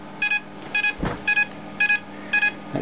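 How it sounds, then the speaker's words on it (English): A digital multimeter gives short electronic beeps while measuring a brief current pulse; five clean double-beeps sound in a steady rhythm, loud and close, with a soft thump between two of them. "an annoying beep."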